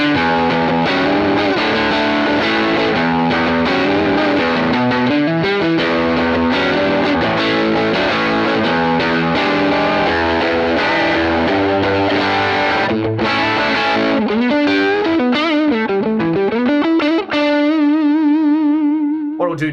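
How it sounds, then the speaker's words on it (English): Electric guitar on a Fender amp with a T808-type boost kicked in, playing a dirty distorted rhythm part of chugging chords and riffs, loud and continuous, ending on a sustained ringing note. "So when I kick this in, this would be more my just kind of everyday dirty rhythm tone."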